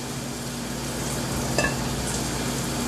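Two eggs hit butter in a hot pan, giving a steady, soft sizzle with a faint crackle, close and continuous without any talk.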